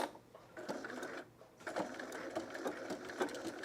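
A sewing machine stitches a buttonhole in short, uneven bursts of mechanical chatter, close up, broken by a brief pause near the middle.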